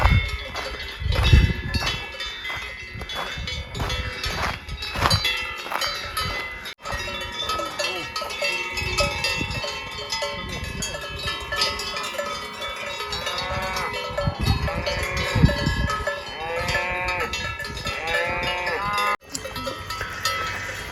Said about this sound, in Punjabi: ਇਹ ਟੱਲੀਆਂ ਦੀਆਂ ਆਵਾਜ਼ਾਂ ਆਡੀਆਂ ਨੇ ਜਿਹੜੀਆਂ ਗਾਵਾਂ ਦੇ ਗਲਾਂ 'ਚ ਬੰਨੀਆਂ ਨੇ